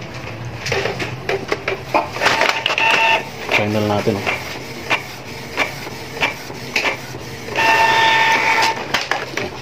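Canon iP2770 inkjet printer with a CISS ink system running a nozzle check, giving bursts of mechanical whirring, clicks and feed rattles at close range, with a person talking throughout.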